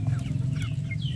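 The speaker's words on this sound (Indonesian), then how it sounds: "anak ayam kampung ini bergabung seperti ini, itu ada yang sudah mulai saling mengganggu" Young free-range village chicks (ayam kampung) in an open run peep in short, high chirps that come one after another, set against a low, steady background hum.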